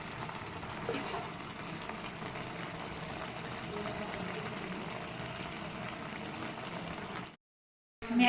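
Maggi noodles boil in a pot on a gas stove with a continuous soft bubbling and hiss heard up close, then the sound cuts off abruptly near the end.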